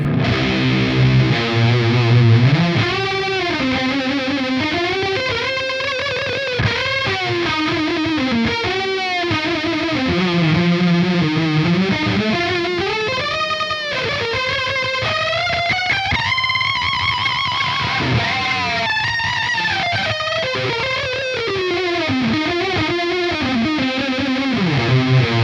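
An electric guitar runs through a Keeley Octa Psi fuzz with octave detuned chorus, producing loud, thick, distorted lines with a warbling, pitch-shifting shimmer that bends and swirls over sustained notes, no voices.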